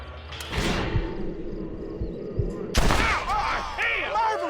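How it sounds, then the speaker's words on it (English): Gunfire in the Western video game Red Dead Redemption: a sharp shot cracks out near the start, followed by another loud burst and rumbling echoes, with shouted voices mixed in. "Marvelous shot, dear boy."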